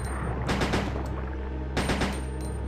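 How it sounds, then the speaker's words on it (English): Gunfire in Resident Evil 2 rings out in two quick clusters of sharp, loud shots, the first a rapid burst of several reports, the second a shorter pair, over a low steady rumble. "pop him some shots, some rounds"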